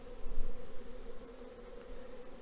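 A steady, close droning hum of many honey bees buzzing inside a hive, continuous and moderately loud, with no talking.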